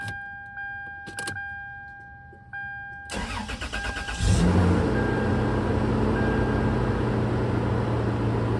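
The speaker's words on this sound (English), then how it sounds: "turn the car on" A few clicks and a chime, then a third-generation Toyota 4Runner engine cranks and catches, settling into a steady, fairly loud idle close by.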